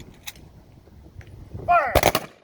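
A firing squad's rifle volley rings out at a Veterans Day assembly, with sharp loud cracks arriving near the end after a quiet stretch of faint background murmur.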